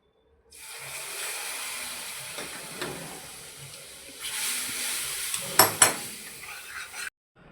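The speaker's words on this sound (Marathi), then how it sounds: "यात केलेलं साखरेचं गरम पाणी घालणार आहोत" Hot sugar water hisses and sizzles as it is poured into roasted moong dal for halwa, a steady steamy crackle that swells into louder bursts of bubbling near the end, then cuts off.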